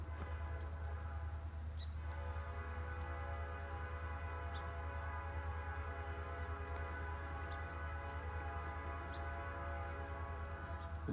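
A freight train approaches in steady rain east of Seaman, Ohio, with a continuous low diesel rumble and engine drone holding evenly throughout, while faint high chirps drift in over the top.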